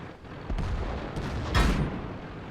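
Tank cannon fire in the World of Tanks video game, shots aimed at an enemy 50-100 tank: two heavy booming blasts about a second apart over a continuous low rumble of battle.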